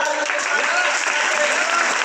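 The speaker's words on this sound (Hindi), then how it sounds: "जोरदार तालियों से हम लोग स्वागत करेंगे" Loud, dense clapping from a large audience at a cleanliness-campaign event at Sher Shah College in Sasaram, an even, energetic burst of applause that continues without pause.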